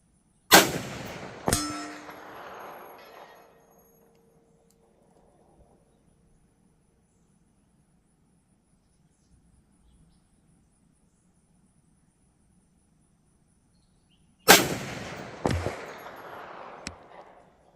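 Two .350 Legend rifle shots fired at a steel target 500 yards away. Each sharp crack is followed at once by a metallic ring that fades over a couple of seconds, with long quiet between the two shots.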